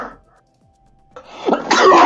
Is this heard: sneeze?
yes